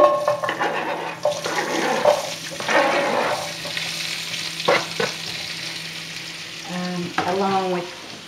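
Baby carrots, skin on, with lamb shanks sizzle in a pan while being stirred: continuous frying hiss with scraping and clattering of a utensil, and short bursts of louder bubbling toward the end.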